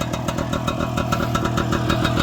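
A little Messerschmitt two-seater microcar with a two-stroke engine idles close by, a loud, rapid, uneven popping putter holding steady throughout with no talking.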